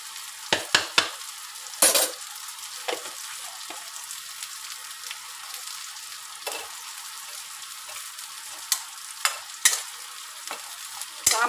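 Taro slices stir-fry in sesame oil with homemade sambar powder, giving a faint, steady sizzle under repeated sharp scrapes and taps of a spatula against the pan, close by and with no voices.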